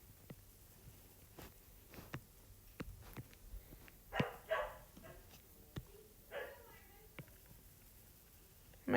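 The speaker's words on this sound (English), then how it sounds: "My dog is scared of everything." A scared dog gives several short, quiet barks and yips at a moderate distance, scattered between brief pauses, with some background sound in between.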